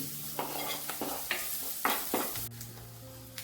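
Green chilies and ginger fry on low flame in a pan for vermicelli upma, with a soft steady sizzle. Several clinks and scrapes from stirring cut through, and a low hum sits underneath.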